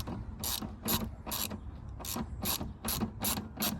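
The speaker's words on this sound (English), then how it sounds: "Hand tighten it and then torque it to spec." A ratchet wrench tightening 10mm bolts on a Nissan Micra K12 tail light, giving close, crisp bursts of clicking in a regular rhythm, about eight strokes with brief pauses between them.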